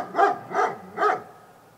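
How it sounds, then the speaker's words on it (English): A dog barks three times in quick succession, close and clear, then falls quiet, with no voices present. "Dog."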